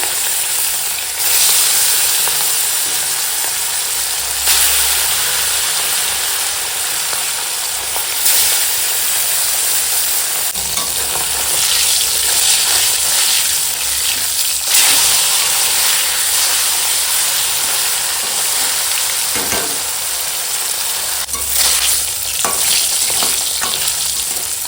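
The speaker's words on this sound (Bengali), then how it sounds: "আর দেখো এখানে তেল গরম হয়ে গেছে এখন মাছ ভেজে নেবো" Rohu fish, rubbed with salt and turmeric, frying in hot oil: a loud, steady sizzle and crackle that runs without a break, with occasional louder spitting bursts and no voices.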